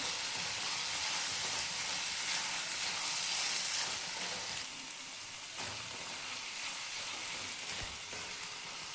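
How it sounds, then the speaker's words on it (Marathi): Cashews and chickpeas roast in hot oil for chana masala, giving a steady, loud sizzle and hiss with occasional stirring scrapes; the frying eases slightly midway but stays continuous, close and without speech. "काजू टाकायचे आहेत आणि ते तेलामध्ये भाजून घ्यायचे."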